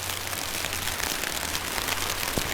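Heavy rain pours steadily on an outdoor surface near Situ Cangkuang, a dense continuous hiss with a low hum underneath and no talking.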